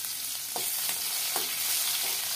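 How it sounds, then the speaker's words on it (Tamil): A small tomato frying in a pan of parandai chutney, a steady close sizzle with a few soft stirring scrapes, no talk. "இப்போ சின்னதாக 1 தக்காளி போடுறோம்"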